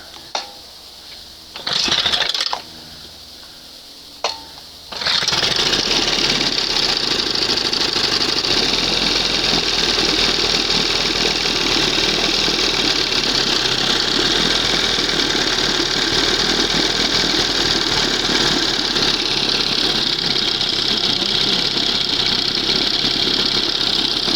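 A 1971 20 HP Johnson outboard engine is cranked with a few short bursts, then catches and runs steadily at a loud, close, buzzing idle that holds for the rest of the clip.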